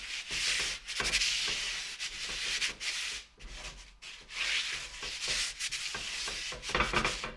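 Close, scratchy rubbing and wiping strokes scrape back and forth across a cast iron skillet, wiping off excess oil in uneven bursts, with no voices.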